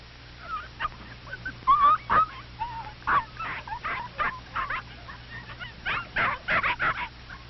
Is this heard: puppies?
yes